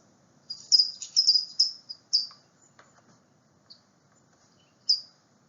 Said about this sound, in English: The California towhee has a sound like this.